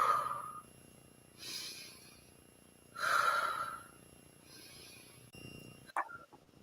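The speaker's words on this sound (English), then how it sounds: "Let's deeply breathe, inhale and exhale 3 times." Slow, deep breaths drawn in and let out during a guided breathing exercise, soft and close, with three rushing breath sounds separated by quiet pauses.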